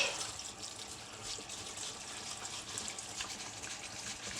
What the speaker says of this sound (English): We have 400 grams of medium grain, cold water, and then we're just gonna give it a wash.